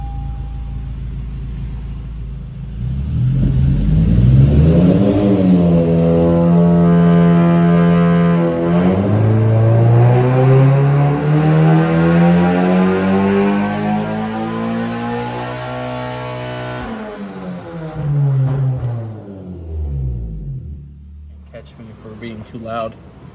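Honda VTEC engine revving hard on a dyno during exhaust silencer testing, a loud sustained rising-and-falling engine howl with sweeping harmonics climbing as revs build, then dropping off near the end.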